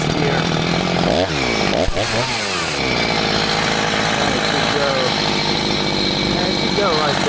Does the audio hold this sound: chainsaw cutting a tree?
yes